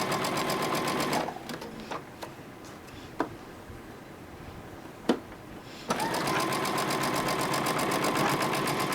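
A sewing machine stitches a fabric seam for a Sun Rays quilt block in steady, loud mechanical runs at the start and end, separated by a pause with a few scattered clicks and taps.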